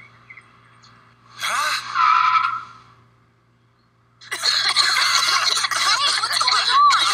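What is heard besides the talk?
cartoon mini car skidding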